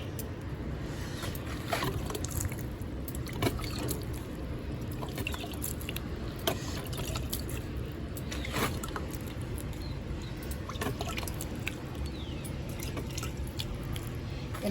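Water poured over vermicompost around young dahlia seedlings, a soft continuous patter with scattered small drips and splashes, close and faint, with no voices.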